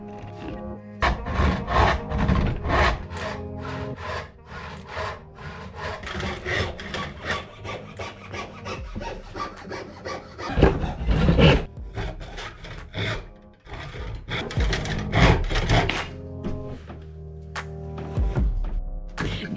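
Cutting a lid from 70-year-old teak wood: steady, rasping cutting strokes repeat in quick rhythm with occasional wooden knocks, close and fairly loud, with no talking.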